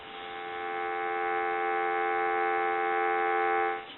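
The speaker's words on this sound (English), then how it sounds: "I want to give you some dial tone." A steady, humming dial tone on a Western Electric 202 rotary desk telephone holds at an even level for several seconds, then stops.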